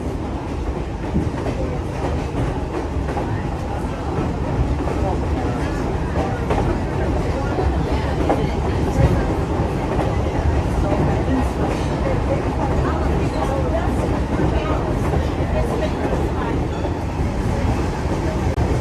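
A heritage excursion train with steel cars of about 70 tons each rumbles steadily along the rails with a continuous loud roar and faint clacking, under a voice talking throughout.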